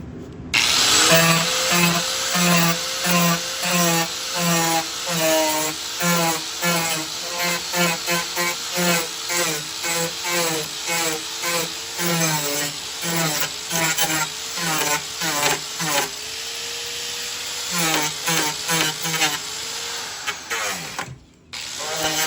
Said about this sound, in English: go around the perimeter of that with the grinder there, and that should clean up any of that melted plastic ridge that needs to be flat